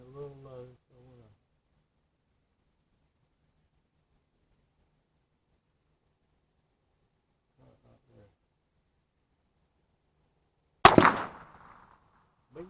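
A single sharp .22 LR rifle shot rings out loud and close, firing through a Sightmark Wraith scope setup and trailing off quickly; brief speech comes before it, with a long quiet stretch between.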